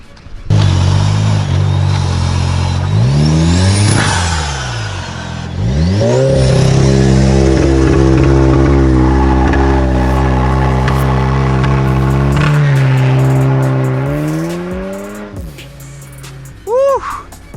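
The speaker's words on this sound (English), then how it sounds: "Tons of turbo noises, all the right noises that this car should make." A 2017 Audi S3 with an Integrated Engineering intake and lowering springs accelerating hard through the gears at night in Utah, its engine climbing and dropping with turbo whooshes and whistles, loud and close, with a voice briefly at the end.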